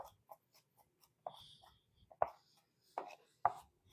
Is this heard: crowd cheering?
no